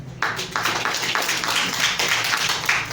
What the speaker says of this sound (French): avec à la tête le président Sadio Keita, que je vous prie d'applaudir s'il vous plaît